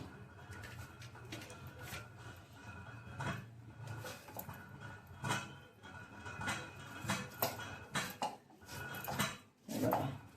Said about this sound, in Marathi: ही करटुलं चिरून घेते